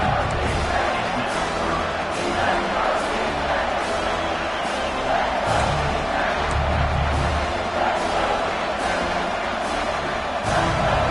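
A college football stadium crowd roars steadily on a third-and-goal defensive stand, a broad wash of distant noise with sharper bursts and thuds rising through it, while a commentator talks over the top.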